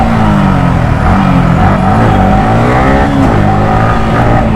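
A sport motorcycle engine drones loud and close while riding through street traffic, a steady, buzzing roar with subtly shifting pitch and no pauses.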